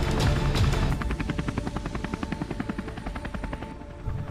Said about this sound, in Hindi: यह दोनों फिर से वाटरमेलन हेलीकॉप्टर को उड़ाने की कोशिश कर रहे थे